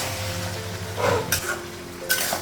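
Spiced meat with ginger paste, garlic paste and onion cooking in a pan in a home kitchen, a steady close sizzle with a couple of brief stirring scrapes and utensil clinks.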